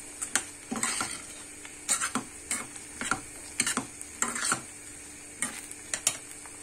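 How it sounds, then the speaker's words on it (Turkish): Meat for pilaf sizzles in a pan while a utensil scrapes and stirs it in irregular bursts, close by, with a steady frying hiss underneath. "Sadece kavurup bırakacağım bunu arkadaşlar."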